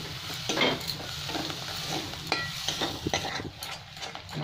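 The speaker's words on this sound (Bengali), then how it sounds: "এত ভালো করে ভাজবো যাতে যেন তেলটা যেন খুব ভালো করে ছেড়ে যায় শুকনো মশলার থেকে" Dry spices frying in oil in a pan for a green pea dal, a continuous close sizzle with intermittent stirring scrapes and clicks of the utensil, heard alone.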